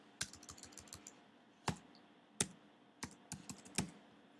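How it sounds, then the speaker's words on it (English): Keys clack on a computer keyboard in quick, irregular bursts, each tap sharp and distinct, with short pauses between clusters of keystrokes in a quiet room. "I'm going to go ahead and type in profile."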